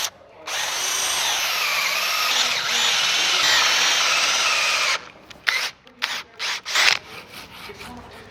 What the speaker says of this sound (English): drilling out as much waste as I can.